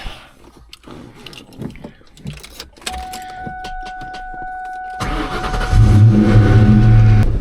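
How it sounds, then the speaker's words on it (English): A Ford Mustang Cobra's engine idles low at first, then swells into a loud, steady rumble as the car pulls away on a drive, with some cabin clatter early on. "we'll go on a little drive here, hand camera over to my co-pilot, and we'll take it for a spin"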